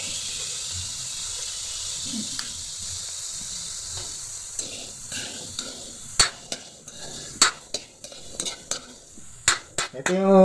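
Vegetables stir-frying in a pan, a steady sizzle with scraping and clattering stirs that grow louder and more frequent toward the end, close up with no talking.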